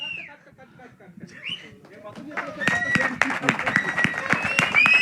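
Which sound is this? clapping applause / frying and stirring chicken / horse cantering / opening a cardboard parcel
clapping applause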